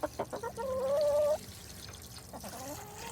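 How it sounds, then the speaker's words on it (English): Backyard chickens in a city-lot coop cluck and call in a short excited burst, a few sharp calls followed by a sustained tonal squawk, fairly close, then softer calls over background noise. "Can you hear all the chickens?"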